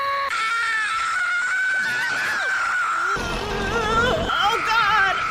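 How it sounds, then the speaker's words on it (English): Several voices scream together in a long, wavering, high-pitched chorus, loud and close, with pitch sliding up and down and a brief break before a second burst of shrieks and yelps. "Let's all scream together."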